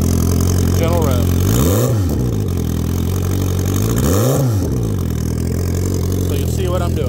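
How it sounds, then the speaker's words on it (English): A turbocharged 2008 Suzuki GSX1300R Hayabusa motorcycle engine runs loud and close at a steady idle, rising twice in gentle revs that swell and fall back, with someone talking over it. "I'll let it rev a little bit more. Gentle rev."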